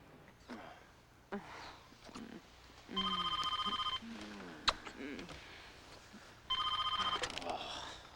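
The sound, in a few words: telephone ringing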